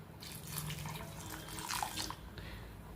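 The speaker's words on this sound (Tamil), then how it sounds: "இன்னும் கொஞ்சம் தண்ணி ஊற்றிக்கலாங்க அப்போ தான் காய் வேகும்" Water pours and splashes into a cooking pot of sambar with vegetables, a steady running trickle that swells in the middle and stays fairly soft throughout, with no voices.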